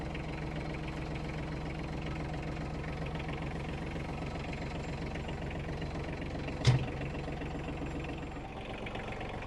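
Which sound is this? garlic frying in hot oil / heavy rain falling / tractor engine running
tractor engine running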